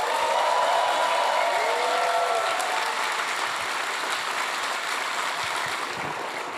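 Applause from a live audience at an artist keynote conversation with Earl Sweatshirt, a broad, sustained wash of clapping that gradually thins toward the end, with a brief whistle-like tone rising early on.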